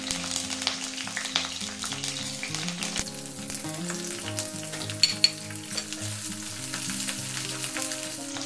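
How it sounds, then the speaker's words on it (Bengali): Green chilies and garlic frying in hot mustard oil, a steady close sizzle with crackling pops and stirring scrapes throughout, a couple of sharper spits midway. "এখানে সর্ষের তেল দিয়ে দিচ্ছি, অল্প রসুন দেব, আর লঙ্কাগুলো একটু ফাটিয়ে দেবেন"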